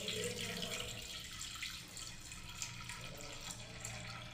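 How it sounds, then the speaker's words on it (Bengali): 500 grams of milk poured steadily into a container for an almond, cashew and poppy seed sherbet, a continuous soft liquid splashing that holds at an even level without pause. "দুধটাকে বন্ধুরা দেখুন ঢেলে দিচ্ছি এবারে"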